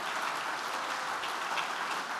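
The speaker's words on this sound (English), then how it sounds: "Let's give one more round of applause to Steve's boss" Steady, dense applause from a room of men at a church fellowship breakfast, an even wash of clapping held at low volume for the whole stretch.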